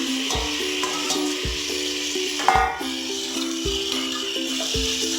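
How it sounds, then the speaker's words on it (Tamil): Pre-cooked mutton sizzles in oil while being sautéed for biryani, a steady hiss broken by a regular rhythm of metallic ladle clangs against the pan and one louder splash-like burst midway. "வேக வச்சு எடுத்துருக்க மட்டனை ஆட் பண்ணிடலாம்"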